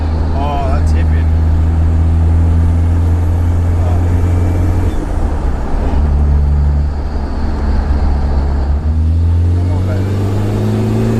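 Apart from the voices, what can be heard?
Toyota Surf 2L-TE diesel engine accelerating on road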